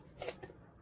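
A child lets out a single quick sneeze indoors, a short, faint burst of breath and nasal noise in an otherwise quiet moment.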